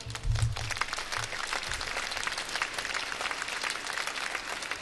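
Audience applause at a 2007 concert in Gdańsk marking Günter Grass's 80th birthday: steady, full clapping from a large hall crowd, even and sustained throughout, with a brief low thump at the start.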